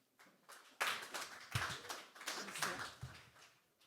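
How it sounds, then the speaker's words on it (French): Scattered claps from a small audience greet a guest at a Paris conference event, uneven bursts of hands that rise and fall for a few seconds, fairly faint and without speech. "Je vous en prie, vous pouvez l'applaudir."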